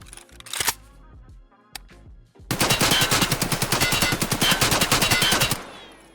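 A Level 2 trader weapon build in Escape From Tarkov fires one long automatic burst of close, loud rapid shots in a steady rhythm. A few isolated clicks and short bursts precede it, and no one speaks.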